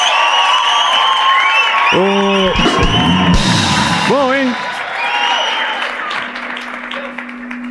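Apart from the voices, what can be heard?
studio audience applause and cheering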